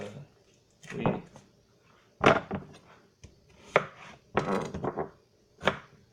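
A crisp home-grown onion is cut up on a board: irregular bursts of crunchy slicing and chopping, some quick, others drawn out, with short quiet gaps between, close and fairly clear.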